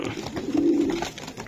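Racer pigeons of a light silver colour coo close by, a single soft rolling call swelling in the middle and fading, with no voices over it.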